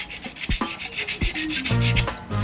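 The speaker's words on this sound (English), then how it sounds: "So we're just going to keep sanding." Sandpaper rubs back and forth across a seam on a plastic scale model kit in close, steady scratchy strokes, with several short, harder scrapes mixed in and no talking.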